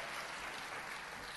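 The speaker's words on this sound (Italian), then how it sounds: "Un applauso al fratello Marek" Applause from a congregation at a Pentecostal gospel service welcoming a visiting Polish pastor, a steady, dense wash of clapping that stays fairly quiet and constant throughout.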